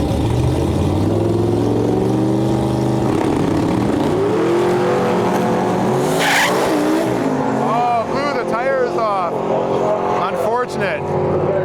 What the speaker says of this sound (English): Now this is a fast car.